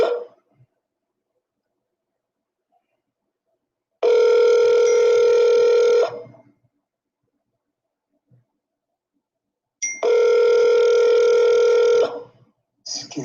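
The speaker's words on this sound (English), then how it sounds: "That's the phone" A telephone line plays a steady electronic tone in two loud, long bursts of about two seconds each, separated by silence, with a short blip at the very end.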